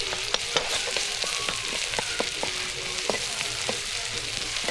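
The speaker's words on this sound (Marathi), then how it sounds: "मस्तपैकी असं सगळ्याच गोष्टी फोडणीमध्ये गेल्यात" Ginger garlic paste and green chillies crackle in hot oil for a misal tempering over a wood-fired stove, a dense continuous sizzle with frequent sharp pops and light stirring, close up.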